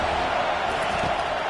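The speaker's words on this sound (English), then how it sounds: "Decibels rising as the crowd gets behind this defense on third down." Stadium crowd noise in a college football video game swells on third down. A dense, steady roar of many voices fills the whole moment, loud and far-spread, with no individual words standing out.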